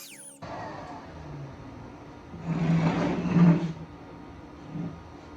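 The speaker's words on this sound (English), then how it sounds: "using a shop vac to pull out the debris and the moisture as much as possible" Shop vac pulling cleaning solution and loose debris up through its nozzle, a broad rushing suction swelling loudly for about a second and a half, then easing back to a low hum with a brief later surge.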